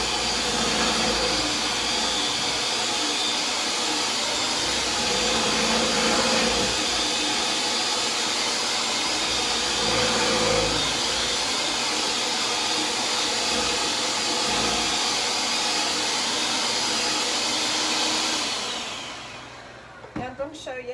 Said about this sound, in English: Medium speed with your mixer.